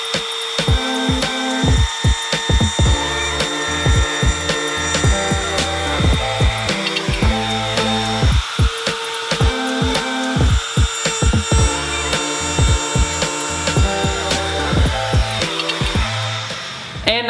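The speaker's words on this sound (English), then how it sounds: "So let's go ahead and route these keyholes." A router cuts keyholes into wooden boards for acoustic panel frames, a loud close whine broken into many short, repeated bursts of cutting for about seventeen seconds.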